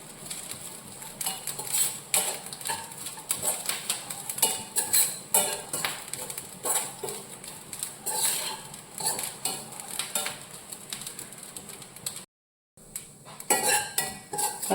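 Grated coconut roasts in a pan for a Kerala pumpkin erissery, stirred with a metal spoon that scrapes and clinks steadily against the pan, close and busy throughout with a brief pause near the end.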